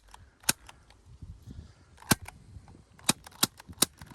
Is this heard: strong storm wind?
no